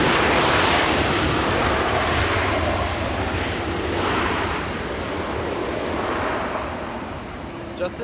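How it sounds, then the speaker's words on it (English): A Spirit Airlines Airbus A320 landing at Los Angeles International Airport, a broad roaring jet rush that stays loud and steady before gradually fading, heard outdoors with wind noise. "Spirit Airlines, an A320 flying in from Dallas."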